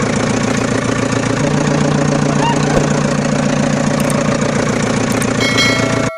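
A toy car's small motor runs in a steady, loud, buzzing hum with a rhythmic mechanical pulse, shifting slightly in pitch partway through before cutting off abruptly at the end.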